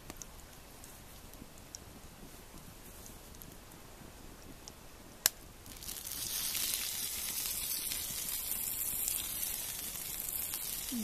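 Butter sizzling in a warm pan outdoors, quiet at first with a sharp tap, then a steady bright crackling hiss that starts abruptly and continues evenly.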